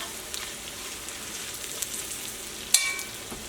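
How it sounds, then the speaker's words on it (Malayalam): Ginger and garlic fry in a pan for a Kerala chicken roast, giving a soft, steady sizzle with one brief louder crackle near the end. "ഇഞ്ചി വെളുത്തുള്ളി പ്രത്യേകിച്ച് വെളുത്തുള്ളി മുരിയുമ്പോൾ നല്ലൊരു ഫ്ലേവർ കിട്ടുമല്ലോ"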